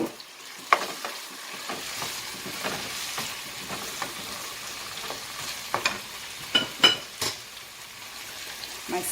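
Sweet pepper and frozen okra sizzle and crackle steadily in a hot pan while being stirred, with occasional louder spits and scrapes of a utensil, prepared for Jamaican-style steamed fish.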